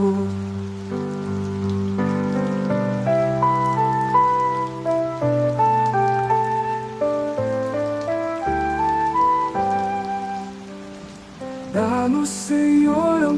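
Steady rain falls softly beneath a slow instrumental Christian hymn melody, the patter a constant faint wash under the sustained tones.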